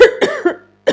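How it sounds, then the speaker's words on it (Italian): A woman coughs three times in quick succession, then once more after a short pause, close and fairly loud, with no talk around the coughs. "ho la tosse"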